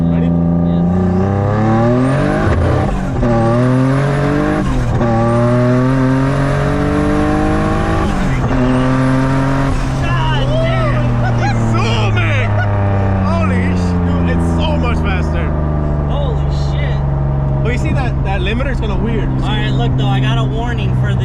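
A turbocharged VQ35-engined car accelerates hard through a second-gear pull, its loud engine note rising steadily in pitch, then settling into a lower drone with some intermittent higher noise, while people talk over it.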